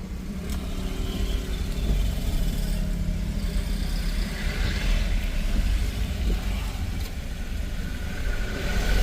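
A car from Karnataka passes near a village market road, its mid-pitched engine droning steadily and swelling slightly as it goes by, with outdoor road rumble underneath.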